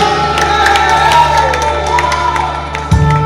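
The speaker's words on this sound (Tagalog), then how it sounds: "palakpak!" A Christmas party crowd cheers, whoops and claps together, a loud lively burst with shouting voices mixed through it and a low musical hum beneath.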